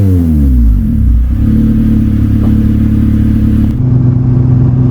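A Renault Clio 182 fitted with a Honda K20 engine sits on launch control, revving up then holding a loud, steady buzzing drone close by, with a brief crackle as the note shifts near the end.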